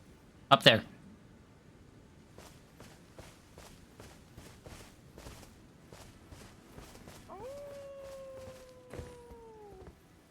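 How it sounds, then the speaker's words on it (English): A howling enemy in Elden Ring gives a sustained, slowly falling moan near the end, after a burst of footsteps and faint scattered steps. "That's for sure a fucking guy who's howling."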